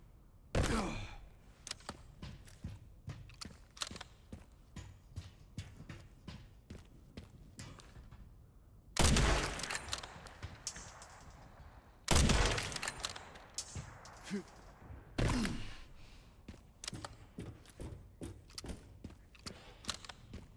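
Gunfire in Resident Evil Requiem, three loud heavy shots spaced a few seconds apart among many quieter clicks and taps, set against a quiet background.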